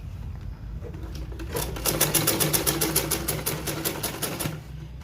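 A sewing machine stitches a boning channel on fabric for a puffed sleeve. After a quiet start a rapid, even, close clatter of stitching runs for about three seconds, then stops. No one speaks.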